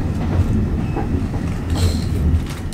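Fish and chip heritage train rolling along its rails, a steady low rumble of wheels and carriage noise with faint rattles and wind across the microphone, close and continuous throughout.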